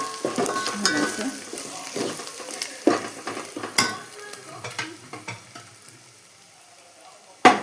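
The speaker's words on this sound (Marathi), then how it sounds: "थोडंसं लाल तिखट टाकायचं, थोडी धने पावडर, थोडीशी हळद, सगळं मिक्स करून घ्यायचं." Spices being stirred into a pan for drumstick sambar, with red chili powder, coriander powder and turmeric, give close scraping, clinking strokes over a soft sizzle, irregular and fading toward the end before one sharp final clank.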